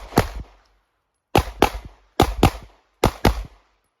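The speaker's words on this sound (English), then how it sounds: "So a cold start means I just got on range, and this is my first time shooting." Handgun shots on an outdoor shooting range during a concealed-carry drill, fired in four quick pairs: sharp loud double-taps with short echoing tails, separated by brief pauses.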